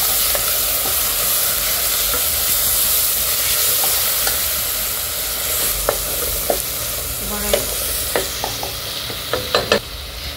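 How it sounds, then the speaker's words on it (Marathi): Ground ginger, garlic, chili, coriander and curry leaf paste sizzles loudly in hot oil with reddened fried onions for a chicken biryani, a steady close hiss with scattered spoon clinks growing toward the end. "आता त्याच्यामध्ये हे वाटण केलेलं आलं लसूण मिरची कोथिंबीर कढीपत्ता मिक्स करून घेणार आहे."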